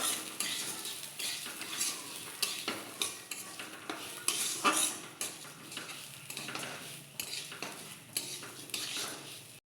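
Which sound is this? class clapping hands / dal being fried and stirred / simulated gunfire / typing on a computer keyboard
dal being fried and stirred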